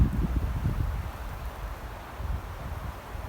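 Wind blowing outdoors, a low rumbling gusty buffet against the microphone, steady and moderately loud with faint rustling throughout.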